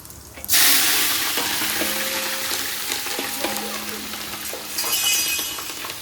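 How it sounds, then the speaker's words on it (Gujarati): Spices hit hot oil for a Gujarati vaghar tempering, bursting into a loud, close sizzle that crackles steadily, with a few faint clinks of utensils. "સરસ મજાનો વઘાર ચાલુ થઈ ગયો છે."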